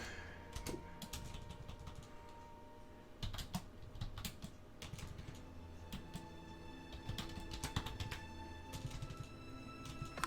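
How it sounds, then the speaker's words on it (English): Quiet computer keyboard typing during a game session, a quick irregular run of soft clicks and key taps with brief pauses, close and faint with no talk. "I don't know if it's my keyboard or if Parador just doesn't like typing"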